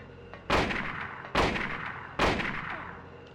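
Three loud gunshots from the 1999 video game Silent Hill, evenly spaced about a second apart, each a sharp heavy blast with a short decaying tail.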